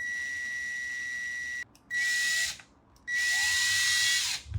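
A power drill whines in high-pitched bursts, running steadily, stopping, then spinning up twice more, close by, while polishing a gear shifter knob.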